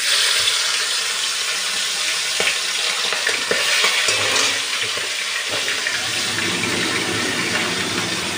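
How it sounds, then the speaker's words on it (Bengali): Hilsa fish fry in a small amount of oil in a wok, producing a loud, steady sizzle that carries on unbroken. "এখন হচ্ছে ইলিশ মাছগুলো ভেজে নেবো।"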